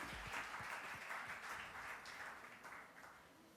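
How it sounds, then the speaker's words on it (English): Brief burst of applause at an awards event honouring outstanding women, a fairly faint, dense clapping wash that holds steady and tapers slightly at the end. "a big round of applause for this outstanding woman"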